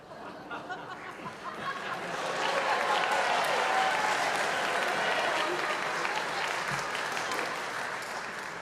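A concert audience at a Christmas symphony performance in a church claps warmly, swelling after a couple of seconds into sustained applause with a few chuckles and murmurs mixed in, then tapering slightly.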